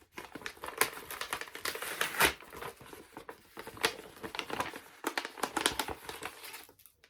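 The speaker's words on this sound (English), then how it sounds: "I'm going to open envelope number one. It's a thin envelope." A thin paper envelope from an advent calendar is opened with soft crinkling and short tearing rustles that come in quiet bursts close by, with no one talking.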